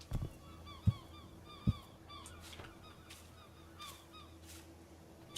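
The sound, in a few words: seagulls calling on a rocky island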